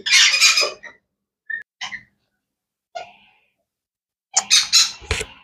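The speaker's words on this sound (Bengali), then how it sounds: "এই যে দেখেন অ্যামাজন প্যারটটা কিন্তু খুবই সুন্দর এবং কিউট একটা পাখি" An Amazon parrot lets out harsh, raspy squawks at close range, a loud burst at the start, a few short sharp calls spaced by silence, then another cluster of loud squawks near the end.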